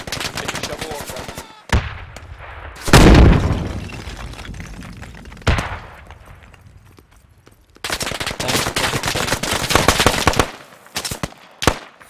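Bursts of automatic and single-shot gunfire in the military shooter Squad, loud cracks and rattling volleys separated by short quieter gaps, with one heavy close blast early on.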